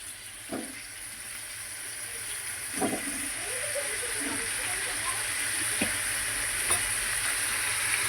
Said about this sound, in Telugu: ముందుగా కొంచెం నూనె వేసుకొని దాని తర్వాత మామిడికాయ ముక్కలు వేసుకోవాలి